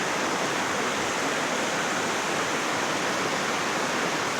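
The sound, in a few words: Snoqualmie River flowing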